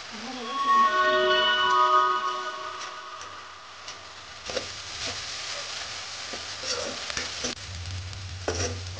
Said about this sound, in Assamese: সজনাখিনি এতিয়া মই ভাজি লোৱা হৈ গৈছে